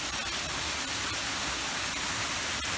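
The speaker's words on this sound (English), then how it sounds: "You can see the waterfall." Waterfall in a deep forested mountain gorge, heard as a steady broadband roar of falling water, continuous and even, with no voices over it.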